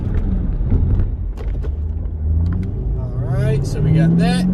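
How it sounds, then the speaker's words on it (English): A Ford GT500 speeds up during a brake pad test drive, its engine a low rumble that builds toward the end, heard from inside the car under a voice. "Let's get up to 40 miles an hour here, and then brake."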